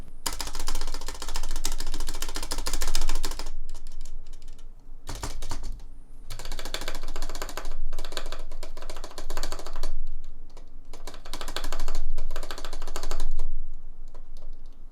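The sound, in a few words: mechanical keyboard stabilizer rattle while typing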